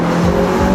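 A Ferrari SF90 XX at speed gives a loud, continuous, close exhaust note, a steady sustained drone with a faint rising edge, heard alone.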